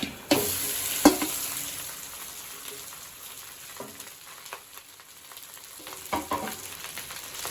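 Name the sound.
mixing cooked rice with tamarind paste in a pan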